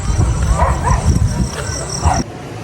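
A dog barks outdoors at night during a walk in Mindoro, a few sharp, fairly close barks mixed with nearby human voices.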